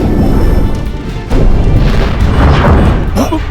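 A torpedo strikes a trench wall in a dubbed volcanic disaster movie, a loud rumbling boom with crashing impacts that swells, dips, then surges again as a sustained roar.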